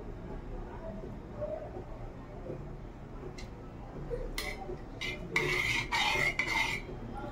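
A spoon stirs sugar into a bowl while homemade curd is being prepared, giving a few faint clinks at first, then a cluster of sharper scraping and tapping strokes close by toward the end.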